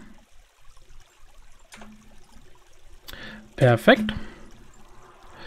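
Water flowing in the blocky video game Minetest on a creative server, a short burst of pouring and splashing in the middle of the clip. Quiet background tones come before it, and a voice speaks a word around it.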